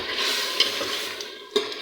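Minced meat keema with potatoes sizzles while being stirred and roasted in an opened pressure cooker, a soft steady fry broken by two sharp spoon scrapes against the metal.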